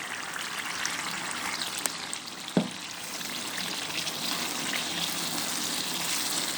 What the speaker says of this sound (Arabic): ننزل بقى بعصير الطماطم بتاعتنا اهي، اللي فيه الفلفل وفيه الثوم وفيه كل حاجه